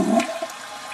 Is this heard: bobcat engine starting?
no